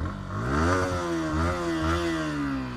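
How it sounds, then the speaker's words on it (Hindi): Yamaha R15 V3 motorcycle idling and revving through its stock exhaust, close and loud: a steady buzzing engine note that rises and falls in a few short revs, with no talk over it. "एक बार इसका एग्जॉस्ट"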